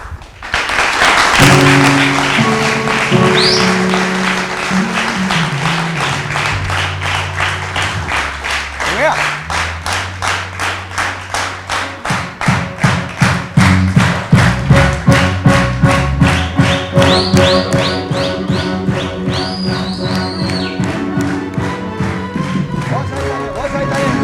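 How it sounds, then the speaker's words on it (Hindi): Studio audience on a Pakistani TV talk show claps loudly and steadily, with rhythmic thuds and music playing underneath and a host's voice talking over it. "बहुत सारी तालियां।"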